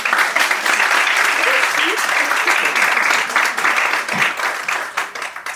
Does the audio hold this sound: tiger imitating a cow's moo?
no